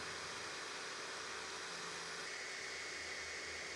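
A 3D printer's part cooling fan runs at full speed through an upgraded airflow duct, producing a steady, loud, close whooshing rush of air that holds evenly throughout with no talking.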